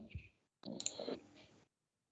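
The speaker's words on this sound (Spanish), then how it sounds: "Dale clic derecho" A computer mouse gives a quick right-click during a microprocessors lab session: a faint short tick, then a slightly longer burst of clicking, both quiet and close, followed by silence.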